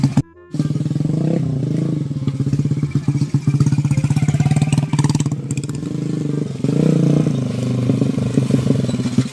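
A motorcycle engine runs steadily up close, with a low, throbbing drone and slight revs rising and falling throughout.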